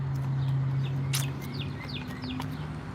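A loud bird repeats sharp, rising chirps several times close by over a steady low hum, with a brief thump partway through and no talk.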